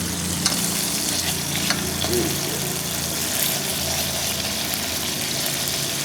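Mushrooms sauté in a hot pan with a continuous, close crackling sizzle and soft stirring scrapes, a steady frying hiss that runs unbroken for about six seconds.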